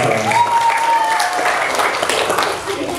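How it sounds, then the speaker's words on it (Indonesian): Group applause at a school orientation closing event after winners are announced, a loud continuous clapping from a crowd with a faint tonal whistle-like line early on and voices mixed in. "Tepuk tangan lagi untuk kita bersama."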